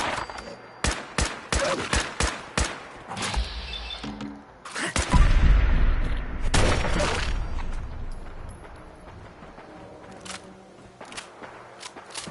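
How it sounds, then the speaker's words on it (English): Video game gunfire in Fallout 4: sharp bursts of rapid gunfire crack repeatedly, then a heavy boom and rumble, followed by scattered distant shots fading into quieter background. "What's that gunfire?"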